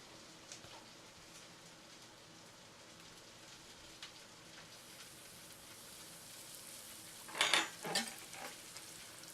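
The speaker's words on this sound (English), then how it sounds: "now I'm going to go ahead and drop this in the oil" Breadcrumb-coated tilapia frying in hot oil, a constant fine crackling sizzle that grows louder and busier toward the end with a few brief bursts, close and alone without talking.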